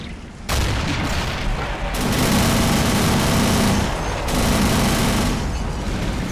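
Sustained massed gunfire aimed at a tank in the Men of War Assault Squad 2 video game, a loud, continuous roar of overlapping shots and booms that swells and eases without a break.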